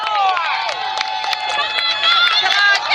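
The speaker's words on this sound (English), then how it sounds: "Crowd's getting into it." A crowd at a high school baseball game between Catoctin and Williamsport cheers and shouts continuously, with whistles and high voices rising above a loud, sustained roar.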